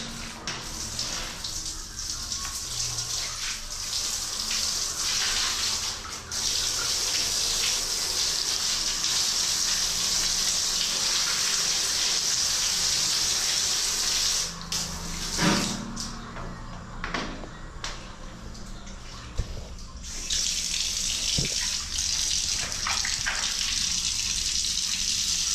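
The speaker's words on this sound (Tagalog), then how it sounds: "Malakas ang tubig yan." Strong water gushes steadily from a kitchen tap as it fills, a continuous broadband rush with brief knocks and clatter over it.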